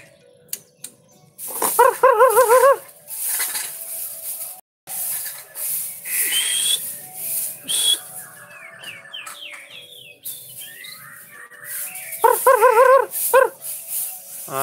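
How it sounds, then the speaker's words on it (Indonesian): A canary sings quietly with short warbles and chirps, interrupted by a few louder trilled bursts; the song stays soft and intermittent. "Oh kenarian cuman suaranya masih pelan teman-teman"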